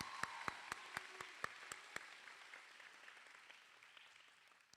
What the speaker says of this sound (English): Miss Rabia didn't get a round of applause.